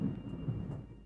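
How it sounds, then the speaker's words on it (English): Thunder from a thunderstorm rumbles low and muffled, a short rolling boom heard indoors at moderate distance with nothing else over it. "Did you hear that? That is thunderstorm."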